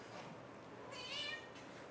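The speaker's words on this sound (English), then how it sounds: "I'm gonna get my cat out of here." A house cat in a woodworking workshop meows, a single drawn-out, fairly clear meow rising above a quiet room hum.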